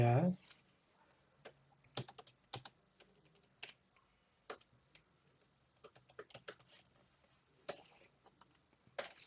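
Quiet, irregular clicks of a computer keyboard as code is typed, with short bursts of keystrokes separated by pauses.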